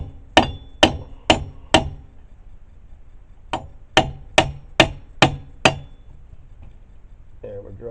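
Sharp metallic hammer blows drive a CV axle back into the hub of a Chevrolet Malibu with the rotor removed, four quick strikes, a pause, then six more in an even rhythm, close and loud.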